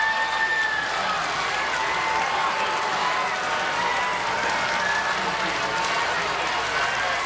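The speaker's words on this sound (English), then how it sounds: "Both fan bases cheering loudly." At a Tokyo Kitasuna versus Taiwan youth baseball game in 2012, a stadium crowd keeps up continuous cheering and applause, a dense distant roar under an announcer's commentary.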